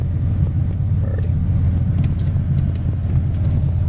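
A 2003 GMC Sonoma truck drives along with a steady, loud low engine rumble and road noise heard from inside the cab, continuous and unbroken, with no talking.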